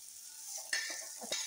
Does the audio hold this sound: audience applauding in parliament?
no